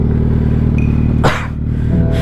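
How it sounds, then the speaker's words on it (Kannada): A Suzuki Hayabusa Gen 2 motorcycle, running very hot while being ridden, gives a steady deep engine rumble with a brief rushing surge in the middle, loud and close. "Riding the mighty ಹಯಾಬುಸಾ."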